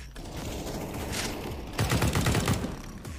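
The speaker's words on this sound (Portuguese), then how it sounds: "Caralho, tô tomando tiro da onde?" Gunfire in the video game CS:GO: a rattling burst of rapid automatic shots, fairly loud, rising into a denser volley near the end, with no talking.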